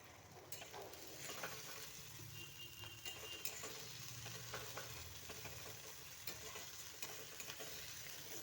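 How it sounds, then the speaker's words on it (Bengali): Cumin, coriander and ginger paste fry in a pan as the base for a boal fish curry with potato and eggplant. A faint, steady sizzle runs throughout with light stirring scrapes, and no one speaks. "একটু সময় কষিয়ে নিচ্ছি।"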